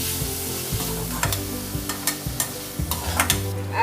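Tomatoes and cumin powder being stirred and cooked in a pan for stuffed brinjal, with a steady close sizzle and repeated scraping strokes of a spoon at a regular rhythm.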